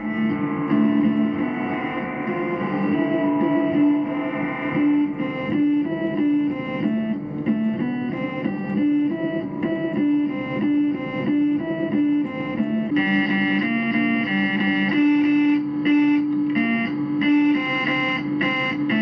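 Guitar amp with a fully working spring reverb tank, played as a continuous sustained tone with a steady, heavily reverberant, echoing wash and shimmering effects, loud throughout with no talking.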